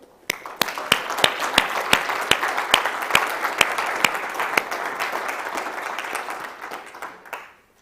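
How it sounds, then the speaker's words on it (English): Sustained applause from a conference audience for a discussion panel, steady dense clapping with a few sharper claps standing out, fading away near the end. "May I have a big round of applause, not only for this panel, but also for the previous panel."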